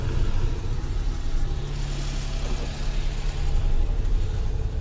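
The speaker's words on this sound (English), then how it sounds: "starts up fine and it's idling way lower than the previous ECU" A Suzuki Alto Lapin kei car engine idles steadily after a start, a low continuous rumble with a faint mechanical hum, close and unbroken, with no talking.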